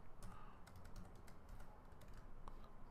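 Fingers type an scp secure-copy command on a computer keyboard in a Linux terminal, producing quiet, quick irregular key clicks in short bursts against a soft background.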